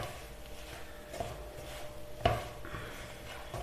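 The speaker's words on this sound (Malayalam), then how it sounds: "വെളിച്ചെണ്ണ ചേർത്ത് നന്നായിട്ടൊന്ന് ഇളക്കി യോജിപ്പിച്ചെടുക്കാം" A spoon stirring Kerala-style chicken thoran with coconut oil in a pan, making soft scraping and rubbing noises with one sharper clink of metal on the pan partway through, fairly quiet.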